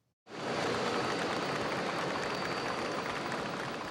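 Crowd in Lexington, Kentucky applauding Queen Elizabeth's 1986 arrival, a sudden wash of steady, hissing clapping that starts abruptly and holds at an even level, distant and diffuse like an outdoor gathering.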